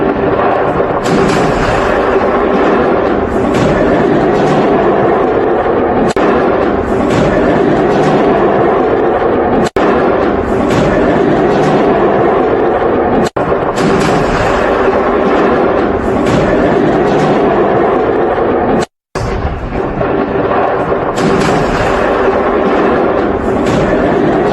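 A loud, continuous roar from an explosion at a fireworks factory in Malta is broken by occasional sharp cracks and bangs, with a brief dropout near the end.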